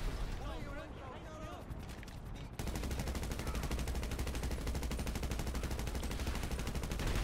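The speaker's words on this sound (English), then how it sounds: "I don't know why I'm shooting it with a gun." Dense, continuous automatic gunfire in GTA Online, aimed at a helicopter, rattles on without a break, while game effects sound faintly beneath it.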